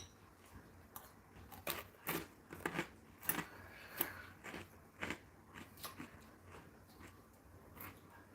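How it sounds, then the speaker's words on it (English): Crunchy bites and chewing on a salad, a string of close, sharp crunches at an irregular pace with quiet pauses between them. "How to properly munch on a salad."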